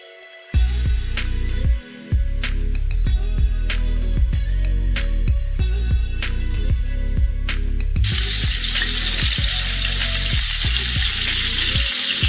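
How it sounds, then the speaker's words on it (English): Meat sizzles loudly and steadily in hot grass-fed tallow, with sharp clicks and pops throughout and a hissing, spitting surge in the latter part. "Nothing beats sizzling meat fried in tallow"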